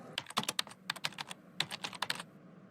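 Typing bird toy pecking at computer keyboard keys, a quick irregular run of crisp clicks in two bursts with a short pause between, close and fairly quiet, no talking.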